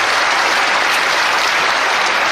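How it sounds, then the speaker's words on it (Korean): A packed stand-up comedy audience in a Korean theater claps in a loud, dense, continuous wash of applause with no voices over it. "여기에 공감하신 분 박수 한번 주시면"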